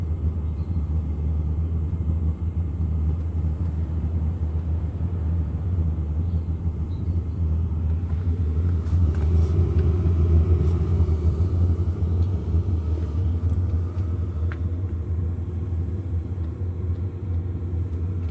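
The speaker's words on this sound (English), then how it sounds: "I can hear that burner going now." A low, steady rumbling roar of a diesel heater burner running continuously, close and fairly loud, with no talking.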